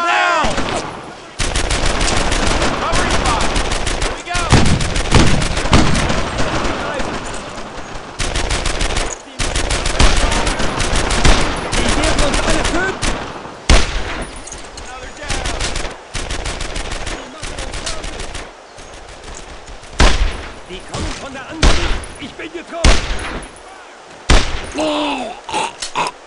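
Dense gunfire fills a Brothers in Arms skirmish battle: rapid machine-gun bursts and single rifle shots crack repeatedly and loudly, with brief pauses between volleys and occasional shouted voices mixed in.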